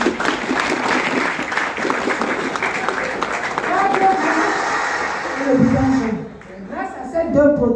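Audience applause at a presentation, dense clapping that fades near the end as a voice starts speaking.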